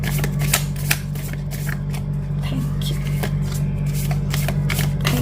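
Tarot cards being shuffled by hand: repeated quick riffling and flicking bursts over a steady low electrical hum, fairly close.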